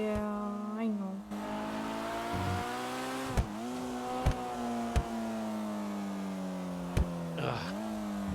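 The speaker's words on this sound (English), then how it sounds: "this car sounds so cool when it misfires. Or, the exhaust fires." A video-game car engine drones at a steady pitch, with a handful of sharp, loud exhaust pops and backfires scattered across it, once dipping as the engine revs down.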